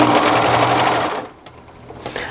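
A sewing machine runs briskly for about a second while top stitching a knit T-shirt neckband seam, then stops, leaving light fabric handling and faint clicks.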